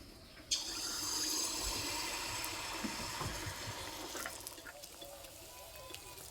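A ladle of date-palm jaggery poa pitha batter drops into hot oil with a brief splash, then a steady, fairly loud bubbling fry hiss that carries on and thins out slowly, with no voices.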